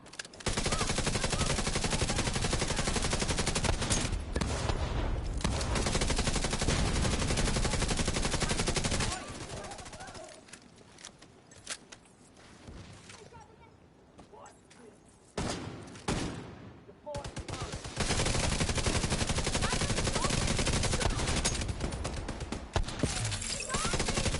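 Video game gunfire from The Division 2 crackles in dense, loud automatic bursts, pausing in the middle for quieter scattered shots and effects before the heavy firing resumes.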